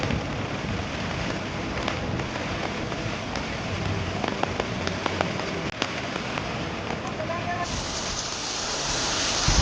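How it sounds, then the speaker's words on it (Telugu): Heavy rain pours down during flash flooding in Telangana, a dense, continuous close hiss of water that holds steady throughout without any distinct breaks. "పెద్ద వాన పడతనే ఉన్నది, ఇండ్లకు వరద నీళ్ళు వచ్చినాయి."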